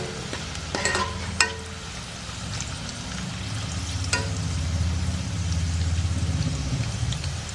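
Sliced bitter gourd (pavakka) frying in oil in a pan, a steady soft sizzle with a few sharp clicks of utensil against the pan.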